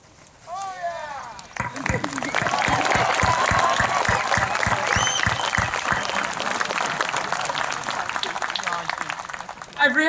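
At a 2020 high school graduation ceremony, loud clapping breaks out: a few close, sharp individual claps lead into sustained crowd applause lasting several seconds, with a brief voice at the start and end.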